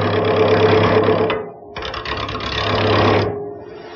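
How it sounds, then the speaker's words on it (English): A skew chisel cuts a square wooden post on a spinning lathe, turning it from square to round. A loud rattling, chattering whir comes in two bursts with a short gap between them. "And I'm going to use this skew chisel to make that first cut."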